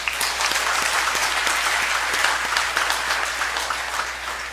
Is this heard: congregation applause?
yes